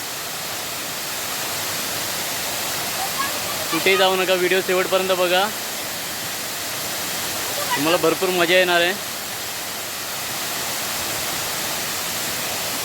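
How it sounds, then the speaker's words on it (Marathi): A tall waterfall at Ghonsari Sapatwadi roars close by with a steady, dense rush of falling water that continues the whole time, while someone speaks over it for two short stretches in the middle. "फायनली आपण धबधब्यावर पोचलो आहोत बघा आपण धबधबा"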